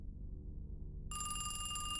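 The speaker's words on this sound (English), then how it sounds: "The phone on the wall rang." A wall-mounted telephone bell starts ringing abruptly partway through, a loud, steady metallic trill that carries on to the end after a quiet, low rumbling room tone.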